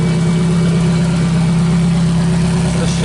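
Toyota Starlet with a swapped-in 5EFE wrecker engine running at a steady idle nearby, a constant rough hum without breaks.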